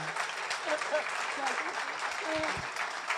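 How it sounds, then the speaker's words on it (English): An audience at an open house gives a standing ovation, with a full, continuous round of clapping and a few voices speaking underneath. "Oh, a standing ovation."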